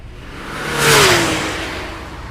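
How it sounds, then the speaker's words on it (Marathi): A car speeds past on a highway at night, its engine note swelling to a loud whooshing peak and then fading as it pulls away, with no voices over it. "त्याने गाडीचा वेग वाढवला आणि काही क्षणात गाडी नाक्यापार नेली."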